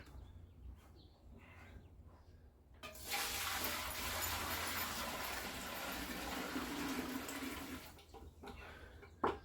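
A steady rush of water pours into a container for several seconds after a quieter stretch, then stops, with soft handling noises around it.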